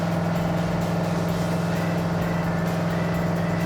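A steady, loud engine drone with a deep hum, heard from inside a moving vehicle, constant throughout with no talking.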